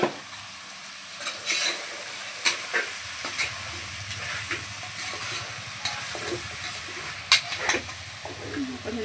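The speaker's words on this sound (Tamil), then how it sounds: "கொஞ்ச நேரம் கறி நல்லா வதங்கணும்" Chicken sizzles and fries in a pan while being cooked down for kuska, a close, continuous hiss broken by repeated scraping stirs of a spoon.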